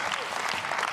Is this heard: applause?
yes